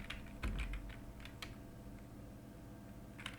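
Someone types a command on a computer keyboard: a few quiet, scattered key clicks in an irregular rhythm over a low room hum, with no talking.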